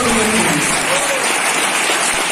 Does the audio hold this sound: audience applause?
yes